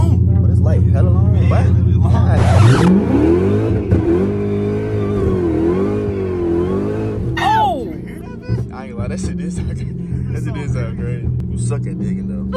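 A supercharged Dodge Hellcat with a ported supercharger snout revs at full throttle, a loud close engine roar that climbs and holds with supercharger whine, then drops back to a rumbling idle as people talk over it.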